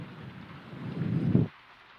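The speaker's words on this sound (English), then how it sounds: "I really like this rain effect we got going on." A rain sound effect in a Vampire: the Masquerade game setting: a steady wash of rainfall with a low rumbling swell that builds, then cuts off abruptly, leaving quiet.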